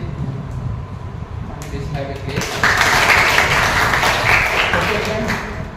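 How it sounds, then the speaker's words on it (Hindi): Audience at a college farewell and valediction party applauds two participants; dense clapping swells in partway through and carries on steadily, with voices talking over it. "एक बार फिर से जोरदार तालियों से इन दोनों का स्वागत का वो कीजिए, धन्यवाद कीजिए"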